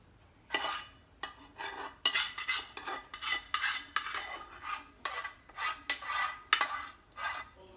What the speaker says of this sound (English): And then I'm going to mix it around again.